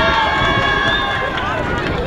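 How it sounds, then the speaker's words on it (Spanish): A large crowd applauds and cheers for a team at the opening ceremony of a Mundialito football tournament in Mexico, a dense, steady roar of clapping with voices mixed in throughout. "fuerte los aplausos para el equipo"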